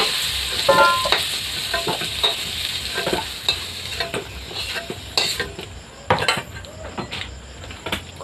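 Fried potatoes are stirred and lifted out of a hot wok, with a metal spatula scraping and clanking in repeated strokes over a soft oil sizzle.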